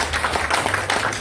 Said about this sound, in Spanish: un aplauso para Alesia